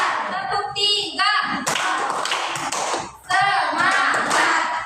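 Rhythmic hand clapping in a classroom clapping game, short bursts of claps from a group of pupils alternating with a voice chanting the counts.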